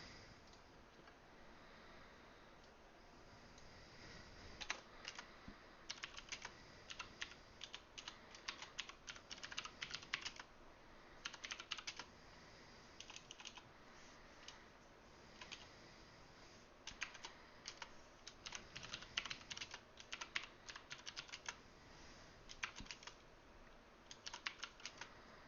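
A computer keyboard being typed on in irregular, rapid bursts of clicky keystrokes that run on and off for a long stretch, fairly faint and with no talking.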